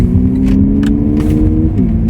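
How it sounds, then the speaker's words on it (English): A steady, loud synthetic racing engine note inside a Lexus UX250h F Sport, a low rumbling drone that holds and shifts slightly in pitch. "this gives you the acoustic sound of racing engine"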